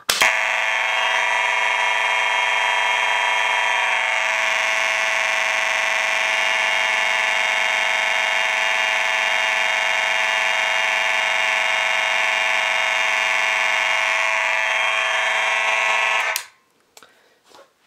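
A Monaco Vulcan 1 fire alarm horn sounds continuously and loudly during a system test, a steady harsh tone holding for about sixteen seconds before cutting off abruptly, followed by brief faint handling noise.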